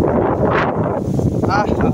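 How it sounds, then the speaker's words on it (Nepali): Wind sweeps across ripening rice fields in Palpa, Nepal, buffeting the microphone in a brief, loud, gusty rush while a person speaks over it. "क्या मिठो हावा लाग्छ।"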